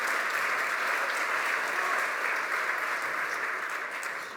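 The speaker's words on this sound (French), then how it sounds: "Vous pouvez vous applaudir." Applause from an audience at a company conference, steady dense clapping that holds for several seconds, close and loud, then eases slightly at the end.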